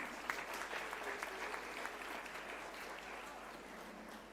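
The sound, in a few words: audience applause for student leaders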